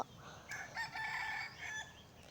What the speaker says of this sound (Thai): ไก่ขันครับ